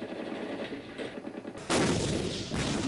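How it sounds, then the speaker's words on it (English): Mortar and small-arms fire in a 1966 wartime setting: a steady rattle of gunfire, then a sudden loud burst of heavy fire that stays loud to the end. "Mortar fire and small arms fire."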